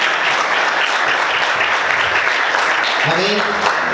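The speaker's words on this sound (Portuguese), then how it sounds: "Vamos aplaudir Jesus bem forte." Churchgoers applaud strongly for Jesus during a service, a loud, continuous crowd clapping throughout, with voices mixing in under the applause toward the end.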